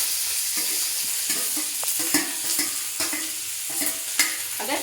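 Potatoes and capsicum frying in a pan with little oil, stirred with repeated scraping strokes over a continuous close sizzle.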